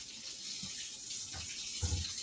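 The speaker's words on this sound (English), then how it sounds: "If you hear running water, it's my sink heating up" Water running steadily from a sink tap indoors, a soft continuous hiss at low level with a couple of faint thumps, no talking.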